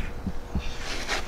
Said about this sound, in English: we're just gonna tap on the outside of this bearing and get it up in there